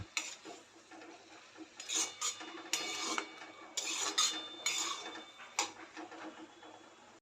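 Spinach dry bhaji being stirred in a metal pan gives intermittent clinks and scrapes of a spoon in uneven bursts, close by and fairly sharp, with quiet gaps between.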